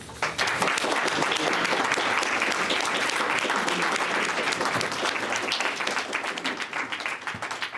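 Sustained audience applause at a poetry book launch, a dense, steady wash of clapping from a room full of people that holds loud throughout and thins slightly toward the end.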